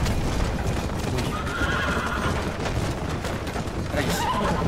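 A horse in the Red Dead video game whinnies loudly over rapid, continuous hoofbeats as it gallops, with faint game noise in the background.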